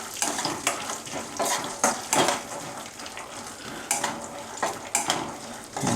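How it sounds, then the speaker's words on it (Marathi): Peanuts being dry-roasted and stirred in a metal pan, with repeated scraping clinks of a spoon against the pan in irregular bursts over a soft sizzle, close and fairly loud. "शेंगदाणे हलकेसे भाजून घ्यायचे, जास्त भाजून घेऊ नका."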